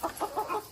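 Chickens on a poultry farm cluck in a few short, nearby bursts spread across under a second, with no one talking.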